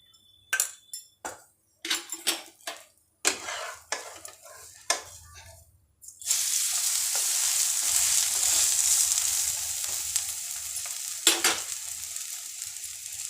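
Uttapam batter frying in oil on a covered pan: a few sharp clinks and scrapes of utensils at first, then a steady loud sizzle that continues to the end.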